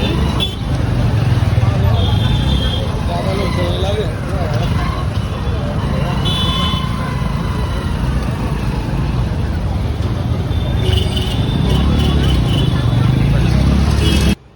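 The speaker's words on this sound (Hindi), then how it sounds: "ट्रैफिक हुआ है यहाँ पे।" Road traffic rumbles continuously close by, with engine drone and passing vehicles, while people talk over the din throughout.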